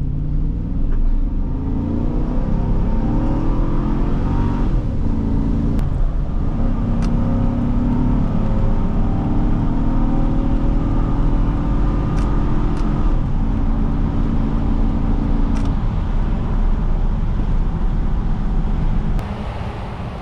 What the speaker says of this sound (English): Today we're driving a 2005 Chevrolet Suburban